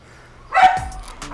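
An XL American Bully dog gives a single close bark followed by a short yip, with faint background noise.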